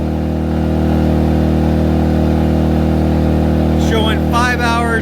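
A Ryobi (Ducar) 1800W/2300W inverter generator runs revved up under a heat gun load set on high, a loud, steady engine drone throughout, with brief talking near the end.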